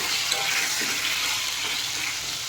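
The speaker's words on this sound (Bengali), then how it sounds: "আলুর মতো পটলগুলোকে সুন্দর করে ভেজে নিতে হবে।" Pointed gourds (potol) frying in oil in a pan, a loud, dense, continuous sizzle heard up close with no pauses.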